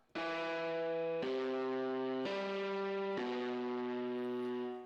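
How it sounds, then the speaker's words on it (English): A sequence of four sustained, gritty keyboard piano chords with heavy overdrive distortion, each held for about a second, loud and buzzy with no other sounds. "I took a piano from just my keyboard and put an overdrive on it to produce this distorted sound"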